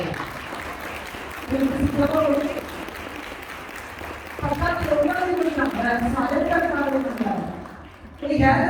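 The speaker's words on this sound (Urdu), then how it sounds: "پہلے تالیاں بجاؤ گے" A congregation claps at an FGA Church sermon in Hindi/Urdu, a broad layer of applause running beneath a preacher's loud voice, swelling at moments.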